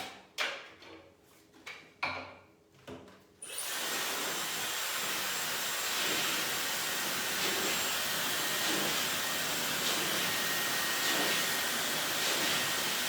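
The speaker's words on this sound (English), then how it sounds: "Now I'm going to use my blow dryer" After a few seconds of clipping and handling sounds, a blow dryer used for styling long layered hair after a haircut starts up and roars steadily, loud and close, for the rest of the clip.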